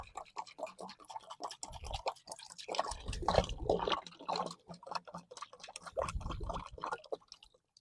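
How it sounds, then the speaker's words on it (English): Pool water poured into a swimming pool pump primer, heard as close, irregular splashing and gurgling with clustered trickles and drips, rising and falling in bursts. "we're going to fill this up with water"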